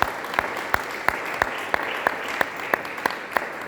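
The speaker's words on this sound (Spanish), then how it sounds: "Dele palmas a Dios del cielo." A church congregation claps in unison during a service, about a dozen sharp, evenly spaced beats at a brisk steady tempo, fairly close and loud over a soft hum of crowd noise.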